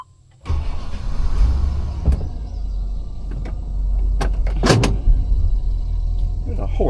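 A 1998 Chevrolet Express 3500 van runs on a test drive, its engine a low steady rumble inside the cab with clicks and knocks over it and voices talking.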